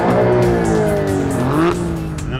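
McLaren supercar in race mode at a drag race launch, a loud close engine revving and climbing in pitch with gear changes and a brief tire squeal, no talking.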